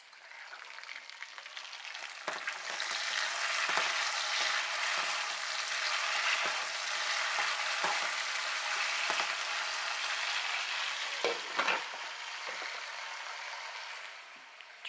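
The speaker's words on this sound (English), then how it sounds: "I hear our potatoes frying away in the background" Potatoes fry steadily in a pan with a constant crackling sizzle, punctuated by occasional louder pops and stirring scrapes.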